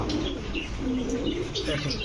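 A Royal Teddy pigeon, a Pakistani fancy breed, coos softly in low, rolling murmurs close by, mixed with faint chirps and a voice talking nearby.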